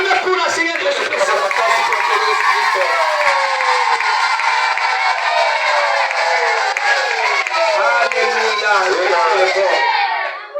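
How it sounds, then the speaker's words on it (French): A church congregation at a worship service cheers and applauds for Jesus Christ, a dense, steady roar of voices and clapping, loud and sustained throughout, with singing or shouted praise mixed in. "Acclamez pour la Seigneur Jésus-Christ"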